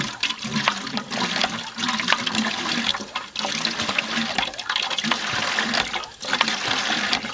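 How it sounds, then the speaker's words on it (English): Water pours out of a full bucket in a loud, continuous rushing gush with splashing, close by, lasting several seconds with brief dips. "I got to empty this bucket because it's almost full and it's heavy."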